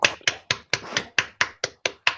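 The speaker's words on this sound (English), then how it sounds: "So you all turn on your microphones and clap your hands" Sharp, hand claps ring out in a quick, fairly even series of about ten, close and loud, as online meeting participants clap into their microphones.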